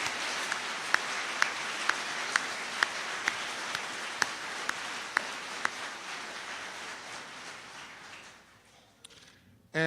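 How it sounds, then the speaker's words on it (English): Audience applause for the judges at a civics competition awards ceremony, a dense, sustained clapping wash with a few sharp distinct claps standing out, gradually thinning and fading toward the end before a sudden abrupt sound. "let's give a great round of applause to our judges"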